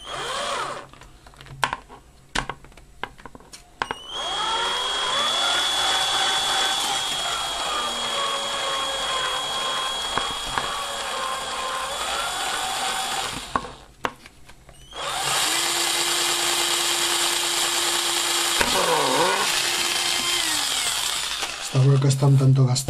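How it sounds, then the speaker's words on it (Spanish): An electric drill whirs in two long bursts with brief pauses, its worn bit boring into a plastic project box, the motor pitch shifting under load, with light handling noises between. "Apoyamos el taladro."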